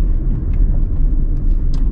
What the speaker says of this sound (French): une Clio, une petite voiture diesel